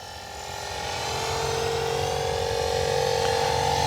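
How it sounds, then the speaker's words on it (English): A Blade S330 radio-controlled helicopter flies at sunset, giving a steady, loud whine of rotor and motor that builds slightly and holds without a break. "I feel like I can control this helicopter in all different modes"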